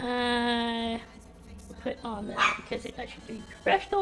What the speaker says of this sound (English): Okay, I got the little dog barking at me.